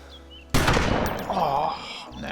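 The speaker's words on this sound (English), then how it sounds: "Oh, no, that's definitely a shotgun." Shotgun blasts from DayZ Standalone 0.57, a loud close blast with sharp attack followed by a rolling echo tail.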